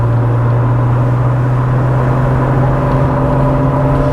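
A 1979 Opel Monza Series 1 with stock exhaust gives a steady, loud engine drone with a low humming exhaust note, held at a constant pitch without any clear rise or fall.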